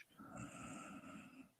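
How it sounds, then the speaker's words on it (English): A sleeping woman snores in one long, drawn-out breath with a raspy, nasal rumble, close and fairly quiet, with no talking over it. "Oh, she's snoring."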